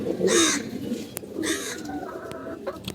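Pigeons stirring at their coop in the morning give a few short bursts of calls, with quiet rustling and clicks between them.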